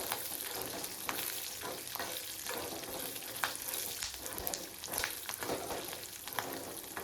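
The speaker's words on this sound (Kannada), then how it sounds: "ಇದ್ರೊಳಗೆ ಹಿಂಚಿದ್ದೆ ಮೆಣಸಿನ್ಕಾಯಿ ಹಾಕೋತೀನಿ. ಅವು ಎಣ್ಣೆಯಲ್ಲಿ ಕರೆದ್ರೆ ಚಲೋ ಆಗ್ತೈತಿ ಮೆಣಸಿನ್ಕಾಯಿ." Chopped green chillies fry in oil while being stirred for a churumuri tempering, making a dense, steady sizzle and crackle close by. Occasional scraping stirs break through the sound.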